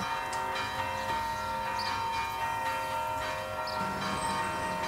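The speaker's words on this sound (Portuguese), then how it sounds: "Como estamos ouvindo justamente os sinos tocar agora, porque faleceu uma pessoa" Church tower bells tolling for a funeral in a Brazilian town, ringing out steadily with a sustained metallic hum and repeated strikes over a constant background wash.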